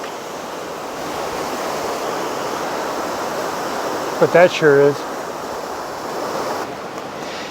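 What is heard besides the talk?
flowing water of a stream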